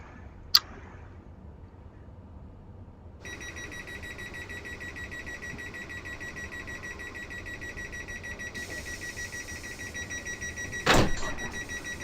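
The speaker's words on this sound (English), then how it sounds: "There's the guard's buzzer noise." Guard's buzzer in a train simulator game on a Portsmouth to Waterloo run: a steady electronic tone with layered high harmonics over low cab rumble, starting a few seconds in and brightening later, with a sharp click near the start and a louder burst near the end.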